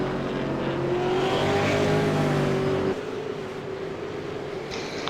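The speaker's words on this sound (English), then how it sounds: "the cars are on track for final qualifying" V8 Supercars from a racing video game roar around Laguna Seca during qualifying, a steady loud engine drone that drops in pitch as a car passes, with no talking.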